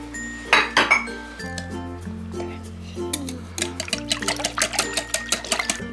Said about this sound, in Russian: А теперь венчиком размешай